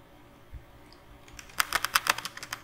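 Rapid keystrokes on a computer keyboard while entering JavaScript code, a quick burst of close, crisp clicks starting after a second of quiet room tone.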